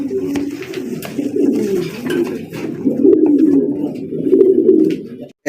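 Pigeons coo steadily and close by at a pigeon sale, their low, throaty calls overlapping without pause until a sudden cut at the end.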